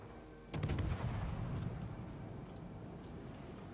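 A naval gun salvo booms in the World of Warships game, a sudden heavy blast of several overlapping shots followed by a long rumbling tail and scattered distant thuds.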